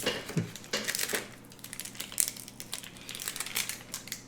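Crinkly plastic wrapping on an Oreo cookie package is tugged and crushed, giving loud, irregular bursts of crackling close by with no talking.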